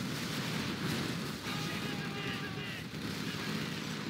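A Tomahawk cruise missile launches in a video game with a sustained, loud roaring rush; a faint whistling streak rises partway through, and a voice may murmur underneath.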